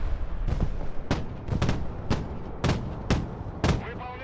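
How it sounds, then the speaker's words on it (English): Mortar fire in the modern warfare strategy game Broken Arrow: about seven loud, sharp blasts land at a steady pace roughly every half second, with a quieter rumble between them. "Great mortars,"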